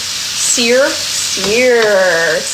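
Food sears in a hot pan with a steady, moderate sizzle underneath, while a voice makes two drawn-out vocal sounds over it.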